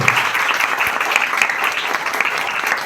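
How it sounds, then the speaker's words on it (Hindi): Loud, steady applause from a seminar audience for Hiralal Gupta, dense clapping sustained evenly throughout without a break. "हमारे गुरुदेव आदरणीय हीरालाल गुप्ता सर, एक जोरदार ताली से चलिए।"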